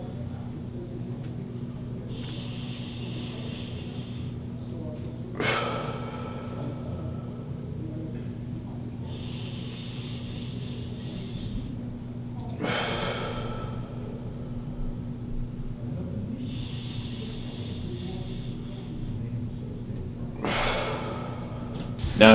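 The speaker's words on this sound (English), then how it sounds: "we're just going to take breaths in through the nose and out through the mouth" Slow, deliberate breaths during a relaxation and stress reduction workout, drawn in through the nose and released through the mouth, repeating about every seven seconds as soft airy exhales over a low steady hum.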